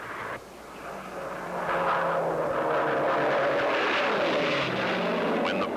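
Propeller-driven piston-engine racing airplane in an unlimited-class air race, its engine drone swelling from moderate to loud as it closes in, then holding a strong steady roar with a slight pitch shift as it passes.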